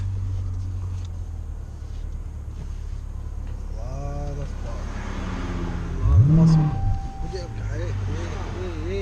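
A 2016 Dodge Challenger Scat Pack idles with a deep, steady rumble, then its engine swells in one brief rev before settling; people talk over it throughout.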